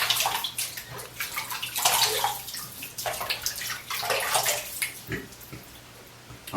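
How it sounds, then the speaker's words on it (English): Hot tap water runs into a bathroom sink in a steady, splashy stream that shifts in intensity as hands move through it, close and moderately loud, with no talking. "I'm going to take some hot tap water here in my sink and add it to my face."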